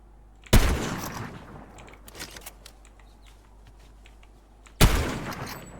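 Sniper rifle shots in a French-language battle royale video game: two loud, sharp cracks about four seconds apart with a faint rattle of distant gunfire and game ambience between them, no talking.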